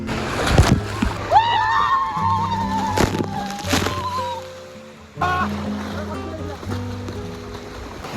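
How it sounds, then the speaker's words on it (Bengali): Sea water washing and splashing on the shore at Bakkhali sea beach. People talk loudly over it, with a steady wash of surf underneath. "দেখ এই দেখ জল আসছে।"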